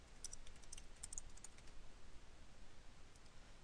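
Quick bursts of keystrokes on a computer keyboard, clustered near the start and then thinning out, faint and close against a steady background hiss, with no voices.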